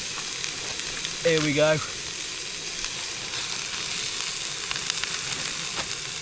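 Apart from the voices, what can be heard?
noodles added to a one-pot meal, sizzling on camp stove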